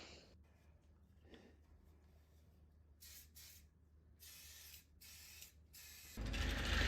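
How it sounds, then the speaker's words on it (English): Accelerator is sprayed onto cracks in an ash wood bowl in several short, close bursts of hiss separated by quiet pauses, then a louder, longer spray at the end. "I will hit it with some accelerator to help it, speed up the drying process as well."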